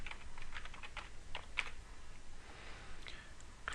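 Fingers type quickly on a computer keyboard, a close run of crisp key taps with uneven rhythm, a few louder strokes standing out over a low steady room hum.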